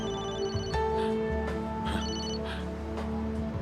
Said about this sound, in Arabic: عم يرن الموبايل.